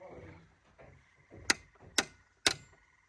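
Three sharp metallic hammer taps on a valve spring keeper land about half a second apart, crisp and close, with quiet rustling and faint handling sounds between them, during a cam install on a Volkswagen ABA 2.0 engine.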